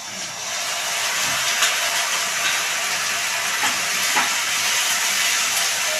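A paste of ginger, garlic, cumin and coriander hits fried onions for an unripe jackfruit and prawn curry, producing a loud, steady hissing sizzle that fills the whole stretch without talk.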